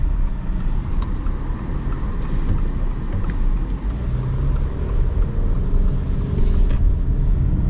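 A 2025 Subaru Outback Touring XT with a turbocharged engine and CVT accelerates, giving a steady low rumble of engine and road noise heard from inside the cabin with no voices.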